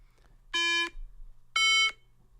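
Two clear electronic beeps from a slate app, evenly spaced about a second apart, bright and tonal against a quiet low hum.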